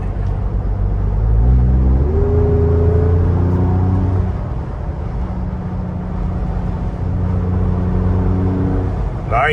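A 2021-2022 Ford Bronco engine with a catback exhaust and the muffler removed, droning loud and steady at close range, rising through a couple of revs early before settling, then climbing again near the end.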